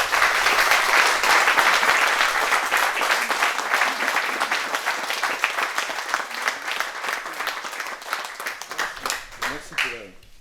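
An audience at a municipal ceremony breaks into loud, dense clapping that gradually thins and fades, with a voice starting up at the end.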